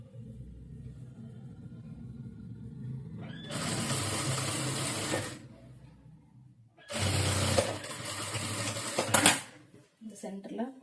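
A sewing machine runs a straight line of stitching down the center of a saree blouse lining, in two loud sustained bursts with a low motor rumble between them and a brief rattle at the end.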